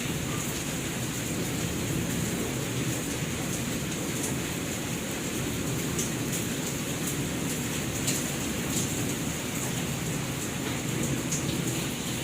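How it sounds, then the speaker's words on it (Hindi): Heavy rain pours steadily on a house, a dense, even hiss with scattered louder drops and pattering, continuing without a break. "बहुत ही ज़्यादा जो है बारिश हो रही थी और बारिश की आवाज़ बहुत ही अच्छी लग रही थी"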